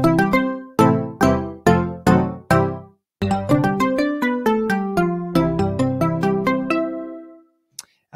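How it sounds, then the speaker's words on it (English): Rich Mallet synth preset from Ableton Wavetable playing a melodic run of struck, bell-like mallet notes, five slower hits followed by a quicker descending sequence, each note decaying with bright ringing overtones, loud and clean with no voices. "So the first is called Rich Mallet."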